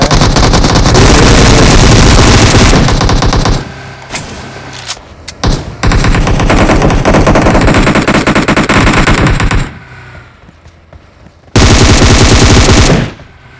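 Rapid automatic gunfire in a mobile shooter game played on a Redmi Note 8, loud sustained bursts broken by short pauses and a brief lull before another burst.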